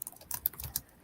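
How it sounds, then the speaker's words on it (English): Quick light clicks of typing on a computer keyboard, a brief irregular patter of keystrokes heard close and fairly quiet. "I hear tickety typing."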